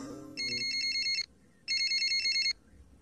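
A telephone rings in two electronic bursts, each a rapid trilling warble lasting about a second, separated by a short pause, fairly clear over a faint background and brief low speech at the start.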